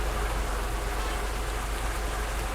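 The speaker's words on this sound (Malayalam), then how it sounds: "അയ്യോ, മഴ പെയ്തു." Steady rainfall in a bus-driving simulation game, a constant even hiss of drops on surfaces that runs unbroken throughout, with no voices.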